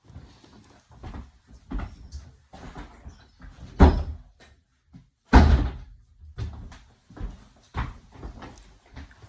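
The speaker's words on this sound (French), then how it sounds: "C'est une porte qui ferme pas." A door that will not stay closed is pushed and knocked repeatedly, giving two loud thumps among scattered lighter rattles and knocks, with people talking in French around it.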